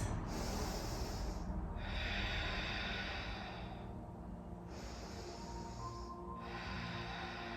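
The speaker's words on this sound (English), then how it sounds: "and take a couple breaths." Slow, deep breathing in a yoga class, with a person lying face down on a mat taking long, steady breaths in and out, close and soft, with no talking.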